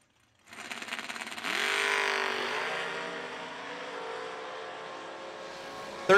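A 1968 Chevy Camaro drag racing engine roars up near and loud, revving with a rising pitch before settling into a sustained, droning high-rpm howl that trails off slightly toward the end.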